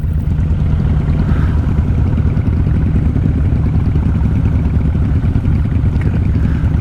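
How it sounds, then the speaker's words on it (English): A loud old-school cruiser motorcycle with a thumper engine idles nearby at a traffic light, a deep continuous rumbling throb that holds steady throughout. "Some sort of"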